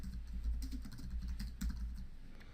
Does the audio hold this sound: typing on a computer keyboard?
yes